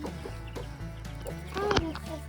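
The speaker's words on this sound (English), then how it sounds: "Baby chickens with their mama." Baby chicks with their mother hen on a farm, soft clucks and a few brief peeping calls near the end over a steady low background hum.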